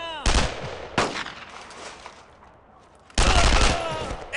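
Bursts of World War II rifle and machine-gun fire in Brothers in Arms: Road to Hill 30, loud close volleys at the start and again near the end with quieter crackle between.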